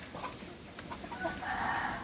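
Chickens in their coop give soft, scattered clucks and a brief higher call at moderate distance over faint background noise.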